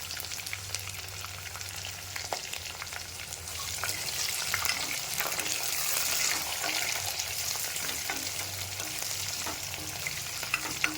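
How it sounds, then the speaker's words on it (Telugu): Chopped vegetables and onion stir-frying for vegetable upma in a pressure cooker, a steady close sizzle with scraping stirs throughout, no talking. "కట్ చేసి ఉంచుకున్న వెజిటేబుల్స్ అన్ని అన్నీ వేసేసుకోవాలి ఒకసారి కలుపుకుందాము"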